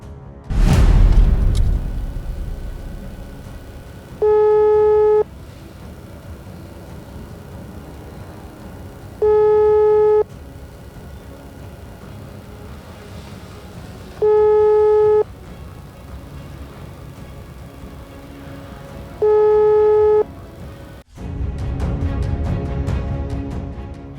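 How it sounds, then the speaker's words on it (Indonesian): Telephone busy tone on an unanswered call: four separate bursts of a steady beeping tone, each about a second long and spaced roughly five seconds apart, over a low background hum with a louder rumble at the start and end. "pihak Denada tidak merespon telepon tersebut"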